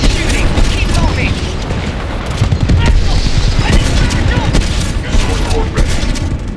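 Dense, continuous gunfire in the Titanfall 2 campaign, bursts and impacts layered over a loud battle with a voice talking in the mix throughout.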